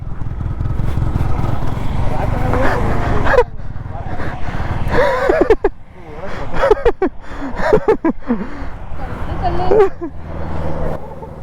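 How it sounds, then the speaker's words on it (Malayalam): A Royal Enfield Himalayan 411 motorcycle held at full throttle on a sandy off-road trail in Dhanushkodi, its loud engine roaring unevenly and surging throughout while voices shout over it. "നന്നായിട്ട് ഫുള്ള് കൈ കൊടുക്കണ. ത്രോട്ടിൽ കൊടുത്തോ."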